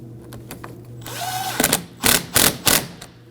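Tool tightening the 8mm battery terminal nut on a 2009-2014 Ford F-150, a short whirring run followed by several loud bursts of ratcheting tool noise up close.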